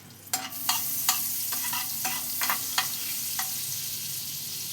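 Butter sizzles and melts in hot oil in a pan, a loud continuous frying hiss punctuated by a series of rhythmic spoon scrapes and taps, close with no voices.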